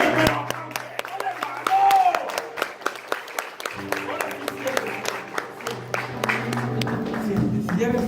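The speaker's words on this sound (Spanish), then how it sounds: "Dale un aplauso al Señor." A church congregation claps together in a burst of applause mixed with crowd noise, while a preacher's voice and music carry on over it.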